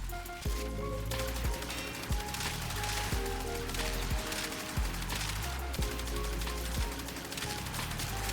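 Rapid bursts of gunfire from the Athodai pistol in Warframe, a fast repeating stream of punchy shots with roughly one-second pulses underneath, loud and continuous over game background.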